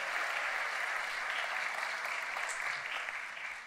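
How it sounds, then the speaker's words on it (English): Congregation applause during a vacation Bible school service at Central Round Rock Church, steady clapping that fades slightly toward the end, fairly faint and without talking. "Round of applause for my ladies."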